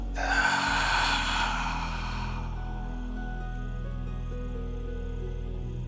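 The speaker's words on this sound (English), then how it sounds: "Taking deep inhales through the nose. Deep exhales out of the mouth." A deep, drawn-out breath during a yoga session for stability and balance, a soft airy rush lasting about two seconds up close, then fading into near silence.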